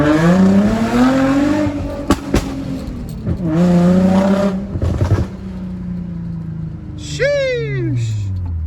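Loud engine revs from an Infiniti G35 Coupe climb and fall repeatedly, broken by sharp exhaust pops and crackles. A final rev sweeps upward near the end, with voices now and then.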